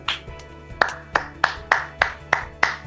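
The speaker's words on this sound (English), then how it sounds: "Round of applause for Jesse." Applause for an award winner comes as sharp, evenly spaced claps from one or a few pairs of hands, about eight in a steady rhythm, close and distinct.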